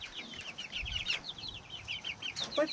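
Chickens around a mobile coop cluck and chatter in quick, repeated high calls, moderately near, with a brief louder squawk toward the end over faint background noise.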